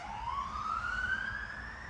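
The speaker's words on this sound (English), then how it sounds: "The ambulance." An ambulance siren rises in one long upward sweep, loud and steady, over a low background rumble, with no speech.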